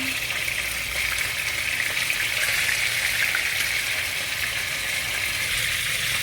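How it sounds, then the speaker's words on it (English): Chicken pieces deep fry in hot oil in a pan, giving a loud, steady, hissing sizzle that holds evenly throughout with no talk. "Now the pan is heated up, I'm gonna add in the chicken to fry."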